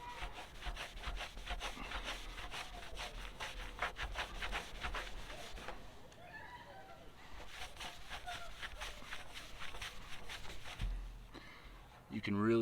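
Steady rhythmic scraping as rust is sanded from the bare metal of a BMW E36 body panel, close and continuous through most of the stretch, with a brief pause near the end.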